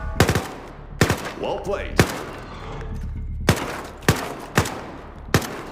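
Single sharp SMG shots on the shooting range in the VR game Zero Caliber, fired at uneven intervals of about a second, loud and close, with a short spoken remark between the shots.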